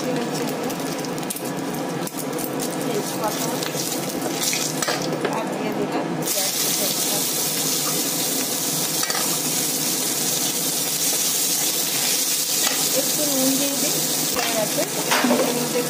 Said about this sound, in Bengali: এবার তেলের মধ্যে দিয়ে দেবো অল্প একটুখানি জিরে, দিয়ে দিচ্ছি শুকনো লঙ্কা